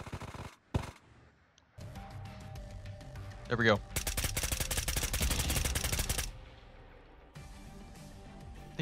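Video game gunfight with loud, rapid automatic gunfire in a sustained burst after a few scattered shots, close and dominant, while a player talks briefly.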